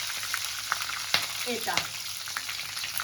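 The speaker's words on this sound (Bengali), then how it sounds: "একটু ভাজা হয়ে গেছে গোটা মশলাগুলো।" Whole spices such as dried chilli, cinnamon, cardamom and cumin frying in hot oil for chicken kasha, a steady close sizzle with light stirring clinks and a brief spoken word.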